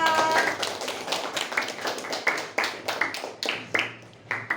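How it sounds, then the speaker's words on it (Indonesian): Several people clap in a short, fairly even rhythm, sharp hand claps repeating close by, with a voice briefly audible near the start. "Tepuk tangan untuk Kesia."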